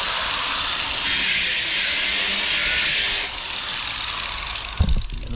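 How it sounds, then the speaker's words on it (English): A variable-speed grinder running at fairly low speed on a 1957 Beetle fender in a hot rod garage, a steady bright whirring hiss that rises in intensity midway, then eases, followed by a few brief knocks. "Variable speed is nice on the grinder."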